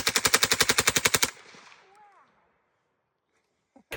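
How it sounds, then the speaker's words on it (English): Suppressed Daniel Defense PCC with an 8-inch barrel and forced reset trigger fires a fast string of about fourteen loud, evenly spaced shots. A fading tail follows, then a faint clatter at the end. "whenever you pull the trigger, it resets and it shoots faster than semi-automatic"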